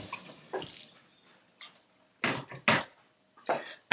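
A mixer part is rinsed under a running kitchen tap, with bursts of splashing water and clatter coming in short, close spurts separated by quieter gaps.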